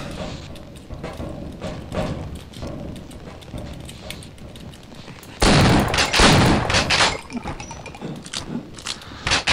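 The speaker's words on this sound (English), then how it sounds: "Oh, he got killed by the explosion" Loud burst of blast and gunfire sounds from the Half-Life video game, a sharp explosion erupting midway and followed by ragged crackling bursts and thuds, after a stretch of quieter game clatter.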